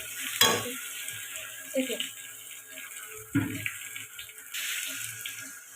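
Spices and potato frying in a pan with a little water added, soft sizzling with a few sharp stirring clatters and splashes, a voice talking faintly over the cooking.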